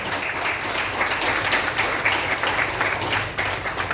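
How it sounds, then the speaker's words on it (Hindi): Members of a community association gathering for Rakshabandhan clap together in thanks to an honoured guest, a steady, fairly loud patter of many hands holding at one level throughout. "सब जने ललित शर्मा जी के लिए एक बार तालियां बजाएं"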